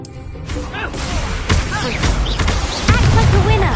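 Incendio fire spell blasts in the video game Hogwarts Legacy, a series of loud booming impacts and crashes with whooshing bursts, layered over game voices and effects.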